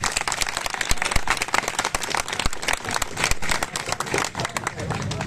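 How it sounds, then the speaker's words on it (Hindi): Film crew clapping for the team on the packup day of a movie shoot, a dense, ragged patter of hands close by with people talking and calling out over it throughout. "बाकी सब टीम के लिए एक बार तालियां हो जाए।"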